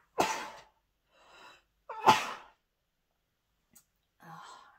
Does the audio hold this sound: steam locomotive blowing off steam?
no